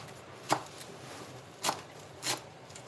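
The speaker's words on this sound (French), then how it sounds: "Je prends le persil, je l'écrase comme ça et je hache grossièrement." Parsley is coarsely chopped with a knife on a board, three distinct dull thuds spaced unevenly and close by in an otherwise quiet kitchen.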